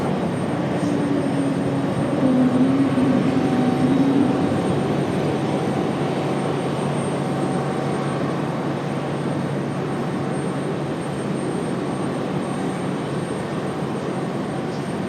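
Breeze Airways airliner touching down at Raleigh-Durham International Airport, a loud, steady roar of jet engines and rushing air held throughout, with a faint rising whine early on and no talk.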